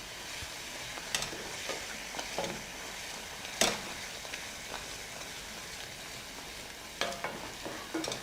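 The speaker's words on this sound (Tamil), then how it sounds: "இந்த இஞ்சி பூண்டு நல்லா வதங்கட்டும்." Ginger and garlic sautéing in a pan, a soft steady sizzle with a few sharper scrapes and clinks of stirring scattered through, close and fairly quiet.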